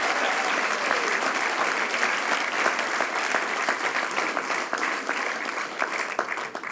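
Sustained audience applause at a New Year's greetings speech in Guilherand-Granges, a dense, steady wash of many clapping hands filling the whole stretch at fairly close range.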